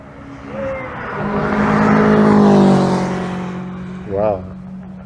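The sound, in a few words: Clan car driving past at motor circuit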